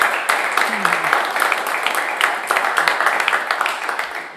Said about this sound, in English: how about one more round of applause for Rose Hawley